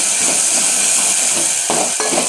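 Ginger garlic paste sizzles steadily in a hot pan for a Kolhapuri spicy milk curry, a continuous near frying hiss with a couple of soft stirring knocks near the end.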